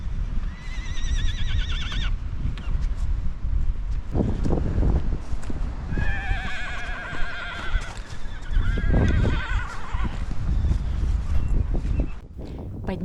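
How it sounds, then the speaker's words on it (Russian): Horses on a mountain pass descent whinny loudly in strong gusting wind, two clear neighing calls amid hoof clip-clops and heavy wind buffeting. "Поднялся сильный ветер, лошади нервничали и громко ржали."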